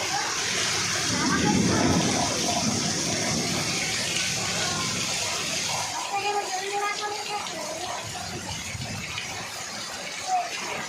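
Heavy rain in a village in Mahadevpur, West Medinipur, during a light storm: a steady, moderately loud broadband hiss of falling water, with muffled voices nearby.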